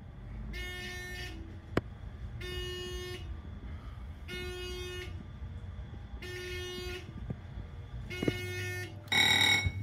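A Thyssenkrupp traction scenic glass elevator's alarm sounds in a parking garage: five steady buzzing tones, each about a second long and separated by short pauses, loud against a low background hum, with a harsher burst at the end.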